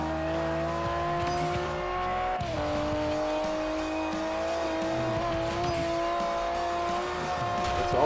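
Lamborghini engine racing in the Forza Horizon video game, a sustained high-pitched roar that shifts gear partway through, with tire squeal under it and no voices.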